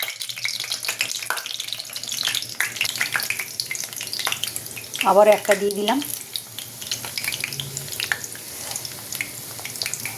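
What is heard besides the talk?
prawn and potato stuffed bean chops frying in oil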